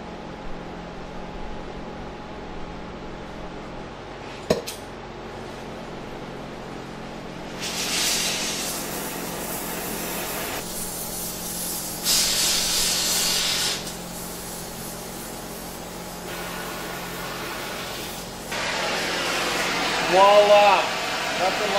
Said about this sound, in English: We're going to use Fire.